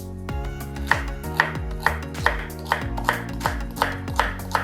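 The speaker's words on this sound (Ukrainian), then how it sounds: "Нарізаю селеру" Regular knife chops through celery on a cutting board, about ten firm strikes at a steady pace over soft background music.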